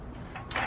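A cordless brad nailer fires once, a brief close mechanical clack and snap over a low hum.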